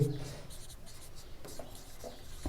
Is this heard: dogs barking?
no